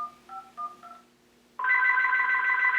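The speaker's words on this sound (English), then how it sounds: "I'm going to call the number now and see if the phone actually rings." A phone on a MagicJack Plus line gives a few short beeping tones, then breaks into a loud, steady electronic ring that continues to the end. No one speaks.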